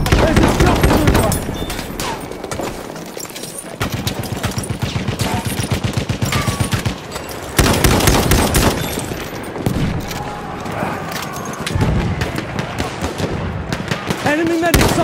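Rapid automatic gunfire and scattered shots in a video game team deathmatch, loud dense bursts that pause and resume, with game voices and shouting over it.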